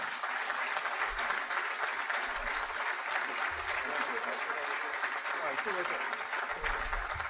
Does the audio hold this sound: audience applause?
yes